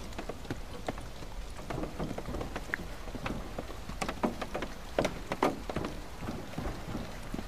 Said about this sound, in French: il pleut comme vache qui pisse, hein